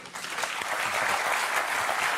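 Steady applause from a studio audience on a French football night show, dense continuous clapping throughout, close and fairly loud.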